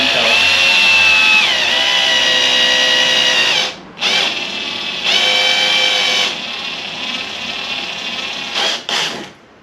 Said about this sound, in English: drill another 12 millimeter